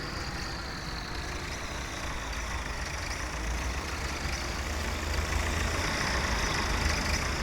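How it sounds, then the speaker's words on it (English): A 1961 farm tractor engine runs steadily, a loud, continuous low rumble that stays even throughout and swells slightly toward the end, with no voices. "This tractor can now go around and be put in the"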